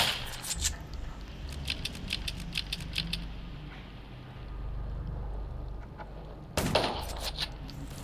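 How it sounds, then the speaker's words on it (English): Rapid gunfire bursts in the Garena Undawn video game, a string of sharp cracks over the first few seconds against a low rumbling background, then another loud burst near the end. "Gunshots from the junkyard."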